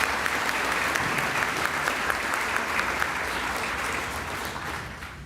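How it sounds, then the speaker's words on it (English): Steady applause from a large audience at a university graduation ceremony in Szczecin, sustained and even throughout before tapering slightly at the end. "Big applause."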